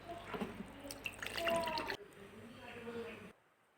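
Pieces of ash gourd, soaked in lime water, rubbed and washed by hand in water make close, irregular splashes, drips and sloshes for about two seconds, then softer trickling before it falls quiet.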